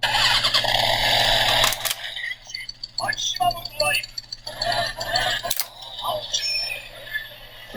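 A Kamen Rider Accel Driver belt toy plays its engine sound effect, a loud revving, squealing motorcycle roar with electronic voice bursts, ending in a couple of sharp sound spikes.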